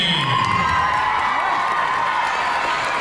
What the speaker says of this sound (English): Raise a cheer for Royce and Stormy